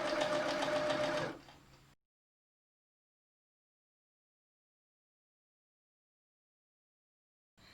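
A sewing machine stitches a sleeve onto a fabric garment, running steadily and loudly for about a second up close, then winding down and stopping into silence.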